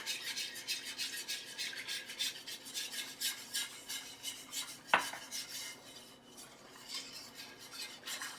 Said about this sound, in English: Continue to whisk until it thickens.